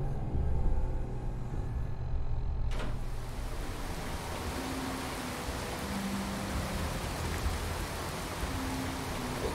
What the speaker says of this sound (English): it's absolutely pitting down with rain